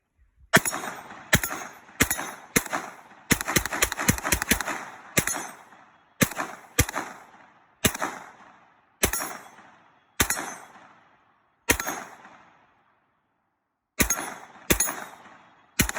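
9mm AR-15 pistol, a Salvs Arms SAR-9, fired at body and steel targets: sharp loud shots in quick bursts, then slower single shots each followed by a short echoing decay, a pause, and a final few rapid rounds.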